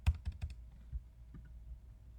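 Remarks typed on a computer keyboard: a quick burst of roughly half a dozen soft key clicks at the start, then a quiet pause with one or two faint taps, close and low in level.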